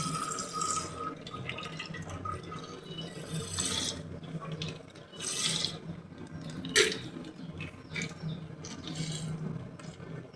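Water splashing and trickling into a pot of milk from close by, steady with a few louder gushes, no talking.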